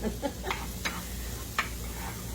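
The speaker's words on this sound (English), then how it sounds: "we've got our onion and our egg, and I'm just going to stir it" Onion and egg frying in a pan for homemade fried rice: a soft, steady sizzle broken by several distinct scraping stirs of a utensil, close and fairly quiet.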